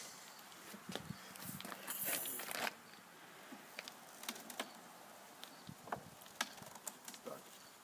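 Honey bees at a hive produce a faint, steady insect buzz with scattered soft clicks and rustles, all fairly quiet and close by.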